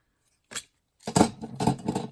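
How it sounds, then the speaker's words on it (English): Little scissors cutting paper during book altering and collage, one short snip followed by a run of quick close snips, crisp and alone. "We'll just cut it with these little scissors."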